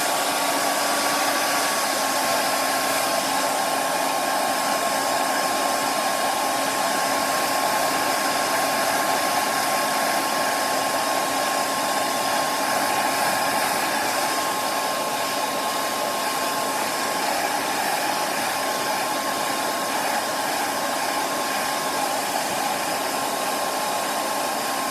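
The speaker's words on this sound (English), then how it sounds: "And then you just blow it dry." A hair dryer blows hair dry after a deep oil treatment, a steady, loud, close whooshing roar with a constant high motor whine that runs unbroken for the whole stretch, with no one speaking.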